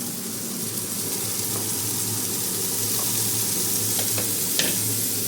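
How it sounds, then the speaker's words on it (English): Meat in a hot pan, a steady close sizzle and hiss throughout, with a few sharp scrapes and clicks of the utensil. "It has seized a bit and it's starting to sizzle."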